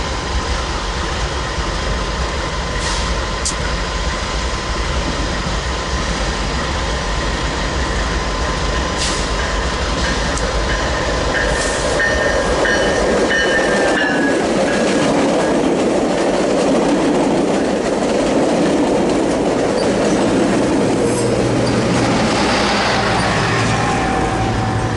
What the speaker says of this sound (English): here we go, my first westbound freight of the morning